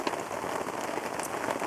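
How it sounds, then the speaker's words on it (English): Steady rain falls outside after a storm, a dense, even patter of drops close by that fills the whole moment with no voices. "because of the rain outside and the storm that we went through yesterday"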